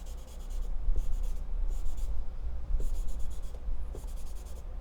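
Pencil shading on paper for a portrait drawing, close and distinct, comes in rhythmic bursts of scratchy back-and-forth strokes separated by short pauses, with no talking.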